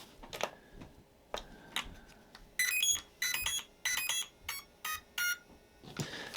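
A DEERC 3S mini basher RC car beeps on power-up: a run of bright, short electronic tones in quick succession after a few soft clicks, close and fairly quiet, ending in a brief rustle.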